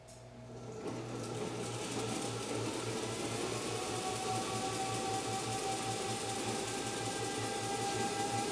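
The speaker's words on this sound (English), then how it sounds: "so it runs on AC and DC. It's currently receiving 9 watts, and this motor is driving the other motor." A universal electric motor spinning up and then running steadily while driving a second motor, a close, constant whirring hum with a fast regular pulse and a high whine on top.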